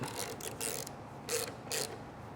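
A hand ratchet tightens a fastener on a barn-find Yamaha DT125 motorcycle, giving several quick close clicking strokes in short bursts.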